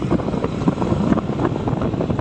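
A Bajaj Discover 125 motorcycle engine revs steadily and loudly up close, a dense continuous drone with slight wind buffeting over it.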